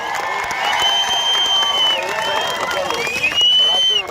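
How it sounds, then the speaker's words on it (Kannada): A crowd at a farmers' union rally in Dharwad, backing a strike by licensed land surveyors, claps loudly and steadily, with whistles and cheering mixed into the dense, continuous applause. "ಜೋರಾಗಿ ಚಪ್ಪಾಳೆ ಮೂಲಕ"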